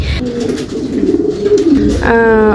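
Pet pigeons coo in low, throaty rolling calls, close and fairly loud, with a brief higher bird call near the end.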